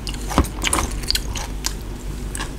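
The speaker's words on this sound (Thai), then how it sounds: "เป็นเนื้อกัดลงไปแล้ว" Close, moist chewing and biting on braised beef from a bowl of Isan-style beef noodle soup, a few soft squishy bites in an irregular rhythm with no talking.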